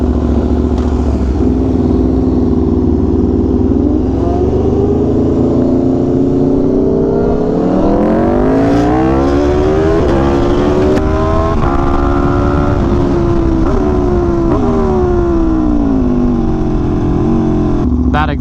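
An Aprilia RSV4 Factory motorcycle with a loud aftermarket exhaust revs close by, engine note climbing and falling through several throttle blips over a steady idle, with people talking over it.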